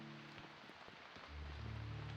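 Rain falling in the game Eastward makes a steady, soft wash of noise across the whole stretch, with a low hum swelling in partway through.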